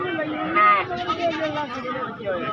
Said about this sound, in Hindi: बच्चा नहीं बकरी खड़ी है मेरा भाई।